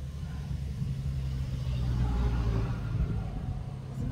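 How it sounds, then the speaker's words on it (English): A car drives past on a suburban street in Everton Park, Brisbane, heard from an e-bike as a steady low engine and road rumble that swells slightly near the middle, with no voices. "Car coming."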